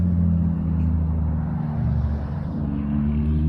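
A car engine revs while passing on a Southern California street, with a loud, steady, low rumble throughout that swells slightly near the end and has no voices over it.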